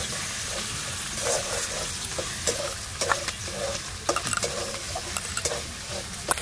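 Ginger-cumin paste stirred in mustard oil in a kadai, a steady close sizzle broken by scraping clicks and scrapes from the spoon throughout.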